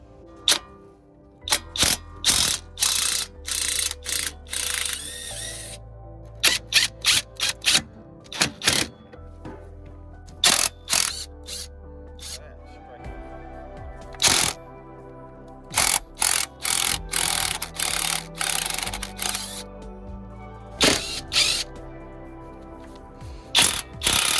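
Handife RB 809 impact driver working on car fasteners, delivering repeated bursts of sharp rattling hammering, separated by pauses and low motor hum, loud and close with no talk.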